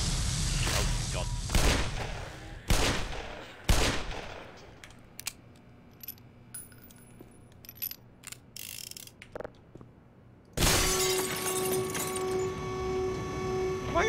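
Automated turrets in the video game Black Mesa fire in a series of loud bursts alongside mechanical clanks and ratcheting whirs, ending in a sustained harsh roar.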